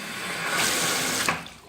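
Water runs steadily from the left faucet of a bathroom sink in a 2006 Simpson travel trailer, a close, continuous hiss that swells slightly and then fades as the flow eases off.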